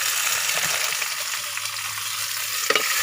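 Onions sizzle and fry steadily in a hot pan, a dense continuous crackle with occasional sharper pops and stirring near the end, with no talk.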